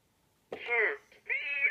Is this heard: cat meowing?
yes